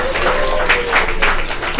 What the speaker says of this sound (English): Everyone who is a Meetup organizer, if you could just give yourself a round of applause